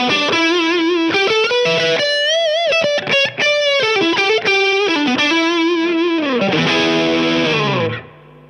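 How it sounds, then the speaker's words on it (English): A Gibson Les Paul Special Tribute DC electric guitar on the bridge pickup with distortion plays a bending, sustained lead line of loud, saturated notes that ends in a held chord fading away. "bit of distortion on. This is the bridge pickup."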